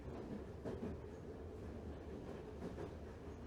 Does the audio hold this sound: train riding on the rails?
yes